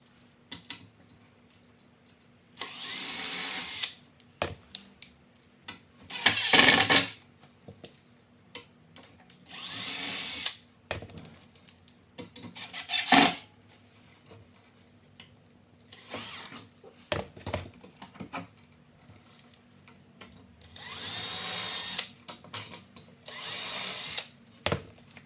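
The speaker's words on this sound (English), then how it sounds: "we're just going to pre-drill and screw in the hinges right here" A power drill pre-drills and drives screws for Euro cabinet door hinges in a wood shop, running in several short loud bursts separated by pauses, with a few clicks between.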